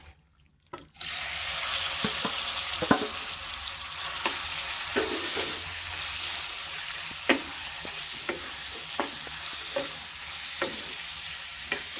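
Squid hits hot oil in a pan after a brief quiet moment and sizzles in a loud, steady hiss, broken by scattered pops and crackles, with no voices.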